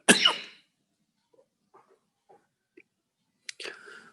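Two sharp, forceful coughs bracket a near-silent stretch with a few faint clicks, the second cough followed by a rasping breath.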